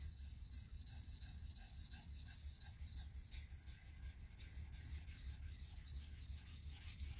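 A blade's bevel is worked back and forth on a polishing stone, giving a steady, continuous rasping rub at close range with a faint repeating stroke rhythm and no voices.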